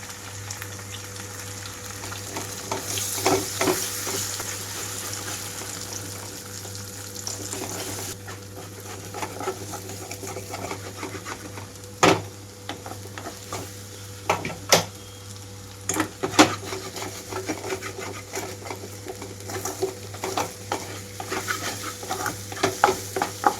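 Three eggs fry in a pan for egg semiya, giving a steady close sizzle broken by scattered clicks and scrapes from stirring, with no voices.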